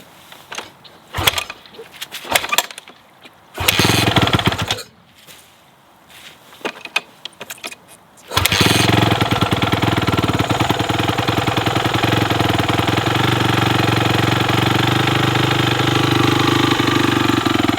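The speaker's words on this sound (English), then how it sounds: "It should start up in a couple of kicks." A ten-year-old Honda CRF250R motocross bike is kicked over several times in short bursts on a cold day, then catches and settles into a loud, steady, chattering idle that runs on close by.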